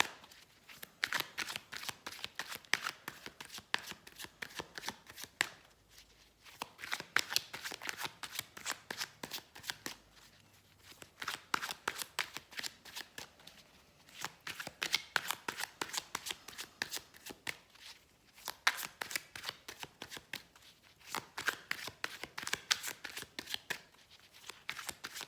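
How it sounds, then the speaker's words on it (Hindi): A tarot deck being shuffled by hand during a card reading: rapid, crisp riffles and card slaps come in repeated bursts with short pauses between them, heard close and alone for the whole stretch. "हम इसके बारे में 3 कार्ड्स ड्रॉ करेंगे टू क्लैरिफाई"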